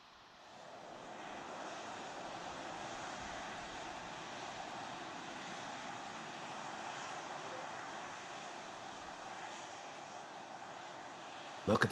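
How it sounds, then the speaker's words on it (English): A SpaceX Starship rocket lifting off heard as a steady, distant roaring rumble that holds even throughout, with voices talking over it. "We can take a look at the Starship taking off again"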